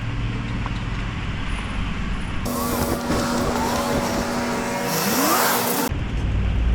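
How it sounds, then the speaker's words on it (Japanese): Cars and traffic stream past a busy Tokyo intersection in the 23 wards, a continuous roar of engines with one vehicle surging loudly by in the middle, heard near and unaccompanied. "人の往来と車の往来結構ある感じです"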